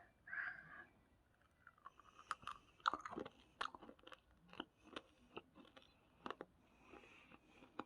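Rainbow jelly candy being chewed close up, with soft wet crunches and sticky bites coming in irregular bursts, quiet and alone with no talk.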